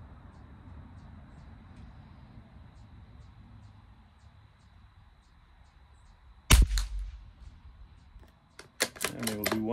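A rifle fired during a five-shot group test, a single sharp loud report partway through, preceded by quiet background hum and followed by clattering and mechanical noises.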